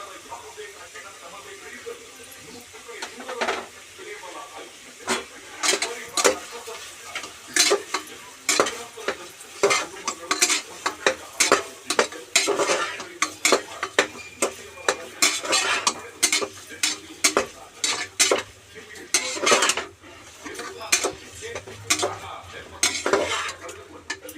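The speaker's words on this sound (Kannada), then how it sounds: "ಈಗ ನಾನು ಆಡಿಸ್ಕೊಂಡಿದ್ನಲ್ಲ ಮಸಾಲ" Masala for a mutton tripe (boti) sambar made with native sheep, stirred in a metal pot with a spoon that scrapes and clinks over and over in a steady, close rhythm, with faint sizzling underneath.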